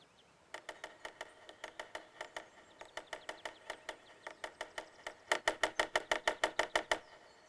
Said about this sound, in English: It's a woodpecker. He's looking for bugs for his dinner.